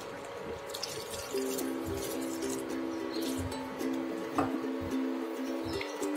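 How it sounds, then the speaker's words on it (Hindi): A glass of water is poured into bhuna gosht masala of onions and dried-down yogurt in a cooking pot. The liquid trickles and splashes quietly, with a few light clinks and a steady background hum. "अब हम इसमें 1 गिलास पानी ऐड करेंगे।"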